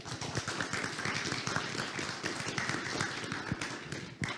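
A conference audience applauds after a blockchain standards lightning talk, steady dense clapping filling the room for several seconds.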